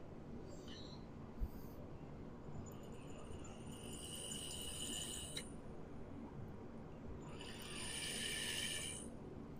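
Terp pearls spin inside a Yocan Black Celestial 2 device, giving a faint, thin high whir that rises in two stretches over a quiet background hiss, close by and with no speech.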